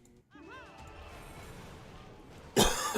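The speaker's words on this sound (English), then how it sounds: "Now I'm sitting here coughing like a toddler." An adult coughing in a high-pitched, toddler-like way: a brief vocal sound, a stretch of low background hum, then one loud, close cough burst near the end.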